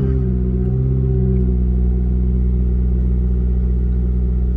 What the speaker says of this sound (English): So I'm just gonna switch the car on now and it should go up to about 14.